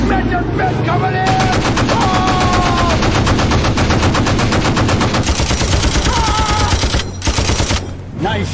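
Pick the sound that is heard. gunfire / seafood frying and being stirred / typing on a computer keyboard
gunfire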